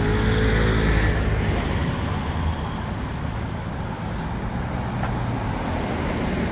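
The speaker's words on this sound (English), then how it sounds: "There's always a traffic jam here." Steady road traffic on Hebron Road in Jerusalem, a continuous broadband roar of nearby engines and tyres that holds at an even level throughout, with no voices.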